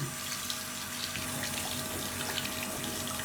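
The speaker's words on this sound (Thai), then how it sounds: "ให้เราเปิดน้ำล้าง" Tap water runs steadily into a sink to rinse eyeglasses, a continuous close hiss and splash with no voices.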